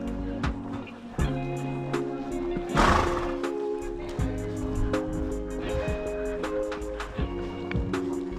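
Horses whinny and neigh excitedly around dinner time at an equestrian stable, several calls rising over a constant background hum with a brief burst of noise midway.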